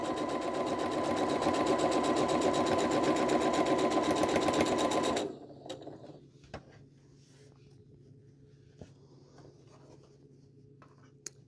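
A sewing machine stitches quilt fabric with a 1/4 inch foot, a loud steady mechanical whir close by for about five seconds. It then stops and leaves a quiet room with a few faint clicks.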